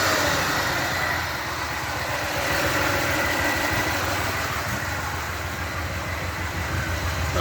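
An idling car engine used through engine compression to pump air into a tire, a steady rumbling drone with a low, even pulse, fairly close and unbroken throughout.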